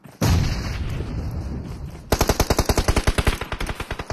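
Gunfire in the battle royale game PUBG, a sharp shot and loud rumbling blast followed by a rapid automatic burst of evenly spaced shots, close and loud, with no voices.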